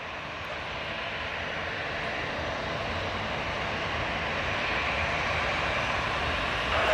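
An Airbus A321 airliner roars steadily at Toronto Pearson airport at night, a broad, continuous engine rumble that holds loud and even, swelling slightly toward the end.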